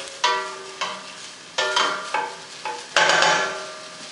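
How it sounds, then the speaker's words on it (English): Vegetables for a bean stew are sauteed in a pan, with a series of sharp metallic scrapes and clanks from stirring, about six separate strokes each fading into a soft sizzle, close by and with no talk. "Again, I'm sauteing this very quickly."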